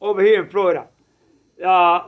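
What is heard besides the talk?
None of the usual background noises is heard.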